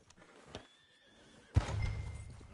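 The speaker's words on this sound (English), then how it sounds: "Is one of you going to get that fella's horse?" A horse in the Western video game Red Dead Redemption 2 lets out a loud whinny that starts abruptly partway through, preceded by quieter ambient game sounds and a brief distant tone.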